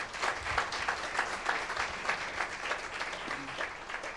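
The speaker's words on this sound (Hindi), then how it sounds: "तो आज नई दया के लिए एक जोरदार ताली हो जाए" A church congregation claps together at a worship service, giving a moderately loud round of applause with a loose, pulsing rhythm that runs the whole time.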